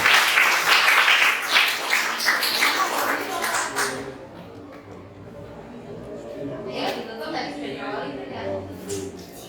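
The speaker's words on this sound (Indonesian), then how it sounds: "kita beri aplaus dulu kelompok 1" Applause for a student group after their class presentation, dense clapping loud at first, then thinning into scattered claps and room chatter with voices talking underneath.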